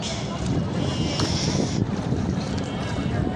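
Wind blowing steadily by a riverside ghat with birds rising, a continuous roaring rush buffeting close to the microphone for the whole stretch.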